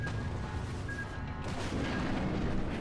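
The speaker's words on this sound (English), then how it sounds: "Oh, that torpedo's going to hit there though, isn't it? Yeah, it is." A torpedo strikes a ship in World of Warships, a deep rumbling boom that rolls continuously under the battle noise, with a sharper swell late in the clip.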